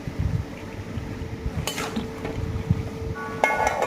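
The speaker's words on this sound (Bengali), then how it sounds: "হলুদ গুঁড়ো আর জিরে গুঁড়ো, দিয়ে তারপরে সুন্দরভাবে এদিক ওদিক করে নাড়াচাড়া করে নেব" A utensil stirs turmeric and cumin powder with vegetables in a cooking pan, giving steady scraping and clinking of metal on the pan with a soft sizzle and no talk.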